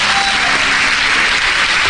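A church congregation claps together in praise during a sermon, a dense, steady burst of close applause lasting about two seconds with no voices over it.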